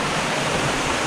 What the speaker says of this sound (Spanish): En medio de las cascadas, ¿ven?